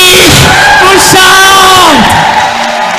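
A church congregation shouts and cheers loudly through a worship service, with bellowing voices and whoops rising over a dense, continuous crowd roar.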